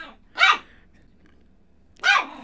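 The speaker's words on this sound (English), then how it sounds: "I can get him to bark at me" Two separate, loud yappy barks from a nearby puppy, spaced about one and a half seconds apart, with near silence in between.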